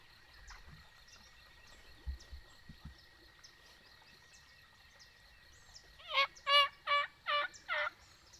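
A wild Missouri turkey gobbles from the distance, one rattling burst of several quick pulses after a long quiet stretch of faint outdoor ambience.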